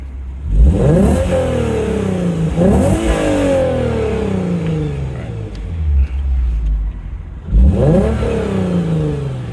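A Lexus RC engine, with its sound enhancer turned up, revs in three sharp bursts: two close together, a lull with the engine idling, then a third. The revving is loud and up close, and each burst sweeps up and falls back.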